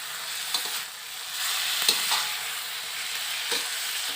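Food being stir-fried in a pan, with a steady sizzle and repeated scraping stirs and clinks of a utensil against the pan throughout.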